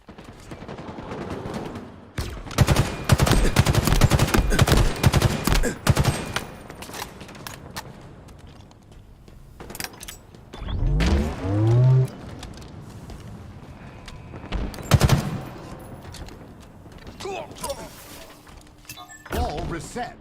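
Bursts of rapid automatic gunfire and single shots ring out in a Halo video game match, clustered loudly at first, then scattered, with an explosion-like whoosh midway and game announcer voice lines over the action.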